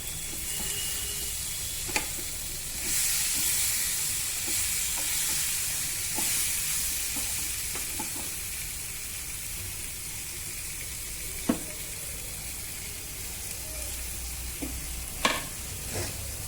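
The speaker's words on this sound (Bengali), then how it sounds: "মশলার কাঁচা গন্ধ যাওয়া পর্যন্ত একটু নাড়াচাড়া করে আমি ভাজা ভাজা করে নিলাম" Vegetables and spices crackle and sizzle in a hot pan for a fish-head curry with potato and radish, a steady frying hiss broken by sharp scraping knocks as a spatula stirs them, with no voices.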